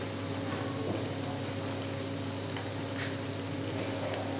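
Aloo bondas deep-frying in oil give a dense, even crackle and bubbling sizzle that holds steady and fairly loud for the whole stretch, with no talking.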